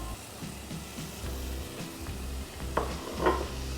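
Salmon frying in oil in a wok, a soft, fairly faint sizzle with stirring and a low rhythmic rumble underneath, plus a couple of brief clinks near the end.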